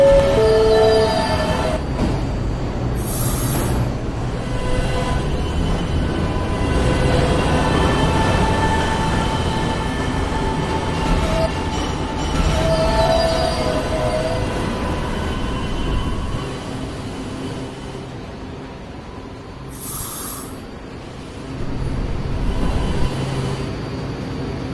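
A New York subway D train rumbles along loudly and close by, its wheels squealing at intervals over a continuous rolling roar that dips briefly before picking up again.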